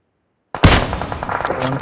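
A single gunshot in a video game lands a headshot, a loud sharp crack that bursts in after half a second of silence, then trails off in a dense, rumbling echo.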